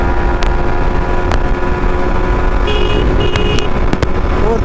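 A Yamaha MT 15 motorcycle engine pulls steadily in fourth gear during a top-speed run, a continuous loud drone with strong wind rush and faint tonal whines, no talking.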